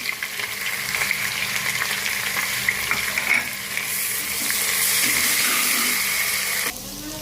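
Onions sizzle and crackle in hot oil, a close, continuous frying hiss with occasional stirring sounds and no speech.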